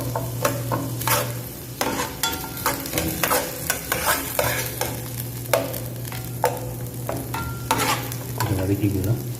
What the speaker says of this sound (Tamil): ஸோ அது கொஞ்சம் வதக்கிடலாம்.